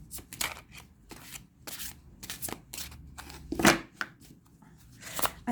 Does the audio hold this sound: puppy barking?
no